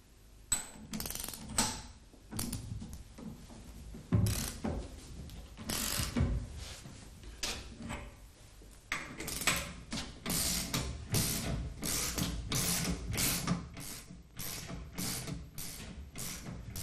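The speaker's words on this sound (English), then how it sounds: "By turning the horizontal threaded spindle, the joint or grooved yoke via the pressure plate and the removal ring is pushed off the profile tube without being damaged." A horizontal threaded spindle press pushes a Walterscheid drive shaft grooved yoke off its profile tube via a pressure plate and removal ring, producing a dense run of metallic clicks, ratcheting and creaks, steady and close, with no talk.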